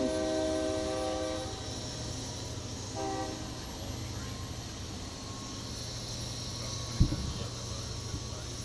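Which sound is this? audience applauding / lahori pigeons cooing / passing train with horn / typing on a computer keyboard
passing train with horn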